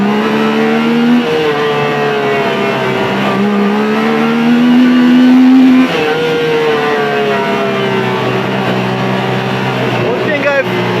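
A Yamaha YXZ side-by-side engine fitted with a free air box mod revs up and settles several times, a loud, close, droning motor with rising and falling pitch throughout.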